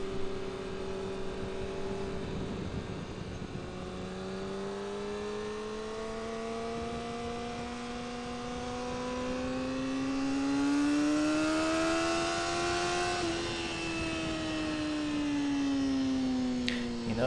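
A sport motorcycle ridden around the MSR Cresson race track, its engine note droning and climbing steadily, then dropping off, close and continuous without talk.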